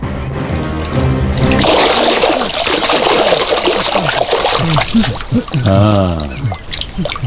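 Water is poured over sleeping people in a dubbed Tamil crime thriller, a loud continuous splashing trickle, with voices speaking over the later part.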